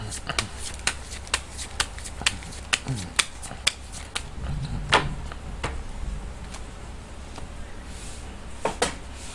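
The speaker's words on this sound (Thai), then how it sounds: "เดี๋ยวจะมาเสี่ยงไพ่ยิปซีดูให้เพิ่มเติมนะ ว่าดวงชะตาของคุณในวันนี้จะเป็นอย่างไรบ้าง" Tarot cards are shuffled for a daily fortune reading, giving a run of sharp riffling snaps and soft card slaps at a steady, fairly quick rhythm, close up, with a low background hum and no talk over it.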